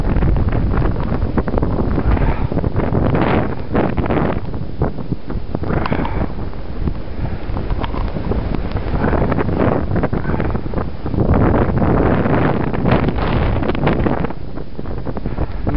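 Brutal blizzard wind on a North Dakota winter day, loud, continuous gusts roaring and buffeting the microphone, surging and easing without a break.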